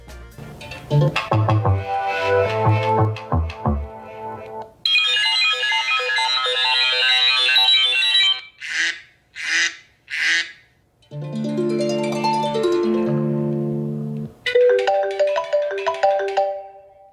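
A Goophone i6 mobile phone, an iPhone 6 clone, plays a series of ringtones one after another, melodic chimes and beeping tones in short bursts, with no talking.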